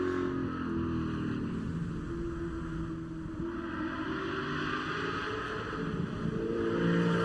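A race car on a Mid-Ohio track event crests a rise and comes back on the throttle. Its loud engine roar holds steady, then climbs as it accelerates, with a rushing wind noise underneath and no talking.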